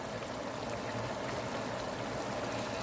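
Water pours steadily into a cooking pot in a home kitchen as a soft, continuous stream lasting a few seconds, quiet and unbroken.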